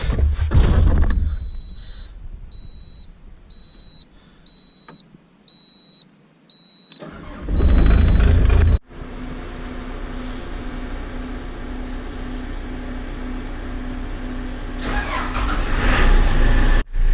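A farm equipment vehicle started up on a cool day: repeated electronic warning beeps, a loud cranking burst, then a steady low engine idle that swells slightly toward the end, no talk.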